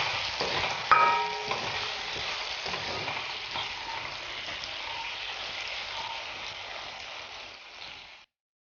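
Spices such as chilli and turmeric powder stirred in a hot pan for button mushroom curry, hissing with a steady close sizzle and a brief scrape near the start, fading out abruptly at the end.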